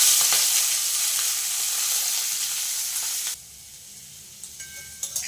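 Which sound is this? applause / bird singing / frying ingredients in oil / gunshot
frying ingredients in oil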